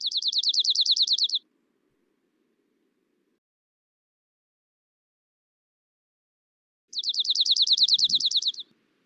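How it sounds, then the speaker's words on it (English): A dark-eyed junco sings two distinct, even trills, each a rapid run of identical notes lasting over a second, separated by a long silence, clear and alone. "I don't know a mnemonic for dark-eyed junco, but it does have this very kind of distinct trill"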